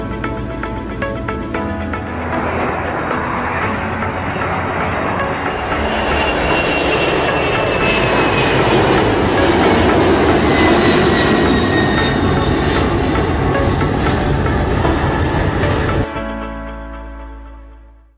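Airliner engines from an Emirates Airbus A330-200 in the flight game SimplePlanes, a loud continuous jet roar that swells slightly, then cuts off abruptly near the end, leaving a brief fading tail.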